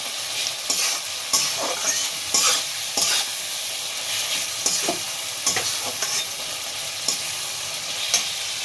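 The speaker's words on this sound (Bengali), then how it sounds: "আমি আস্তে আস্তে করে ঢাকা দিয়ে দিই মাংসটা এই মশলাটা কষিয়ে নেব" Mutton sautéing with Kashmiri spice masala in a pan, a soft continuous sizzle punctuated by frequent scraping stirs of a spoon against the pan, close and without talk.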